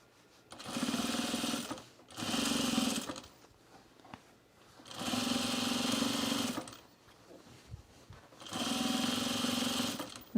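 A sewing machine stitching through a thick sewn rug runs in four steady motor bursts separated by brief pauses, loud and close with no talking.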